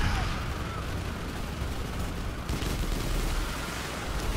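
A dense gunfire barrage from a shooter video game plays as continuous, loud overlapping shots and blasts, with faint voices underneath.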